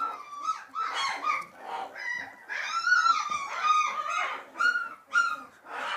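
A small puppy growls and yaps in short, high, strained bursts, trying to bark at its mother; the squeaky, whimpering calls come close and fairly loud in a rapid irregular series with no talk.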